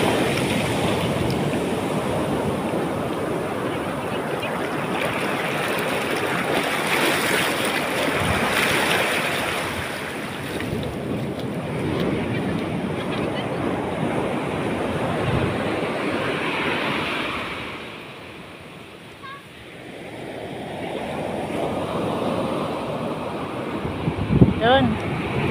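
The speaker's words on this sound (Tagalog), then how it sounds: "Alon." Ocean surf rolls and washes in a continuous broad roar, briefly easing before surging again, with wind buffeting the microphone and occasional voices nearby.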